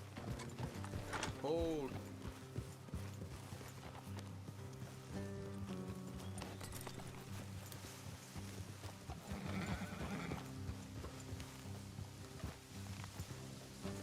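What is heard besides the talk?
horse hooves clip-clopping in a video game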